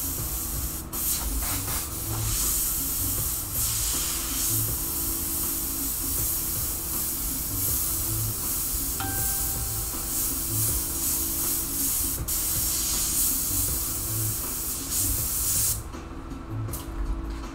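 An airbrush sprays white paint onto a t-shirt in a continuous close hiss lasting most of the stretch, over a pulsing compressor hum, with a brief pause near the end.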